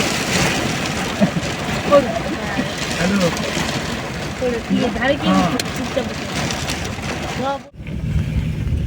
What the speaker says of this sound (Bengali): এই মুহূর্তে চলছে প্রচন্ড প্রচন্ড বৃষ্টি এত বৃষ্টি হচ্ছে